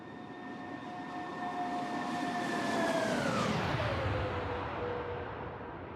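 A simulated Airbus A330-900neo jet in a flight simulator makes a loud, steady roar as it sweeps past, its whining engine tones bending downward in a clear Doppler drop midway through, then fading as it recedes.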